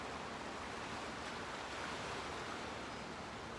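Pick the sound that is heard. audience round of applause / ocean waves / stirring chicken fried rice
ocean waves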